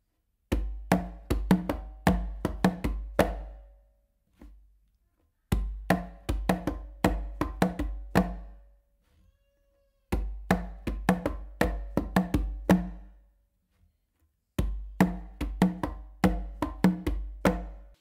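Conga drums play an up-and-down independence pattern, the weaker hand tapping finger strokes against closed slaps from the dominant hand; four loud, close phrases of rapid, evenly spaced hits, each separated by a short pause.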